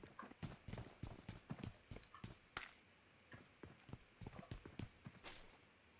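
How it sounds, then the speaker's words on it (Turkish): Footsteps of a character in the mobile battle-royale game PUBG Mobile, a quick series of sharp, close thuds and scuffs with short pauses between bursts, fairly quiet overall. "Ayak sesleri geliyor."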